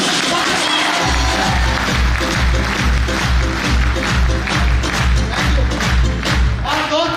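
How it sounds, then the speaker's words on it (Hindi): Large indoor audience at a business seminar bursts into loud, sustained applause over thumping rhythmic music, clapping dense and close throughout, starting after a brief opening second. "मैं चाहूंगा इसके लिए आपकी सबसे धमाकेदार ताली होनी चाहिए।"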